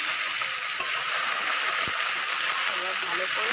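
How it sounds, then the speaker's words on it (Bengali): Chopped onions frying in oil for ghugni, a loud, continuous bright sizzle with faint stirring scrapes running steadily throughout, close to the pan. "এবার ভালো করে পেঁয়াজটাকে লাল লাল করে ভাজবো"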